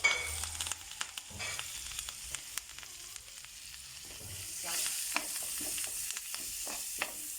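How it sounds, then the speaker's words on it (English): Onions frying in a pan with a sprig of curry leaf and thyme, a soft steady sizzle broken by stirring scrapes and clicks, moderately close with no talking. "Let this fry up nicely till the onions are golden brown"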